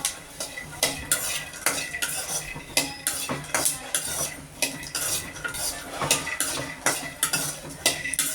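Peanuts stirred as they roast in a pan for a laddu, a spoon scraping and rattling through them in a quick, steady rhythm of close, crisp strokes with faint sizzling beneath; no talking.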